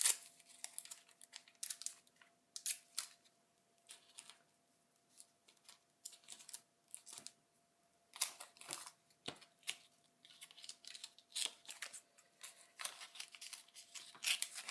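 Aqua paper being torn by hand, a series of sharp, quiet rips and crinkles in irregular bursts with short pauses between, close up against a faint background hum, no voices.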